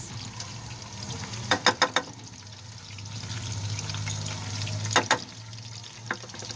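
Onions frying in about one and a half cups of oil in a kadai, making a steady low sizzle with a few sharp crackles and spatters, close and fairly quiet, with no talking.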